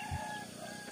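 Rooster crowing in a rural Indonesian village on a morning, a short call near the start over a steady hum of background ambience.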